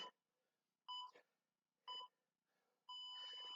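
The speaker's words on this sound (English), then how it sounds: "that's the buzzer, lads" A workout interval timer sounds three loud electronic beeps at about one-second spacing, followed by a longer sustained final buzz, each tone clean and close against near silence.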